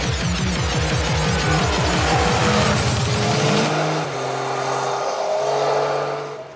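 A Yamaha Tracer 900 three-cylinder motorcycle engine under way, loud and continuous, with rapid rising revs that shift through gears before settling into a steadier drone near the end.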